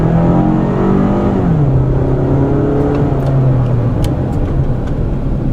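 Toyota RAV4 engine accelerating on the road, a loud, close buzzing drone whose pitch climbs, dips at a shift, then climbs again over steady road noise.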